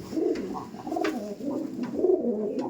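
Pigeons in a loft in Behala coo in close, repeated throaty bursts that overlap one another, with no talk.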